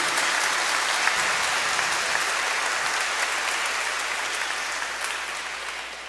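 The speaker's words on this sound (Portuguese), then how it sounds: "Vamos dar uma grande salva de palmas para ele" A church congregation applauding a priest marking 25 years of priesthood, dense sustained clapping filling the space, slowly fading toward the end.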